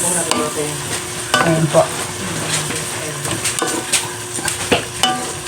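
Pork for dinuguan being sautéed and stirred in a pan: scraping stir strokes over a continuous frying sizzle, with a short spoken remark partway through.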